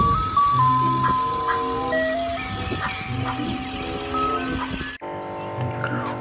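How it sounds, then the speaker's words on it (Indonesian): A toy ice cream truck plays its tinny electronic jingle, a chain of bright beeping melody notes over soft background noise, close by, briefly cutting out and then carrying on. "Ini mobil es krim atau truk es krim."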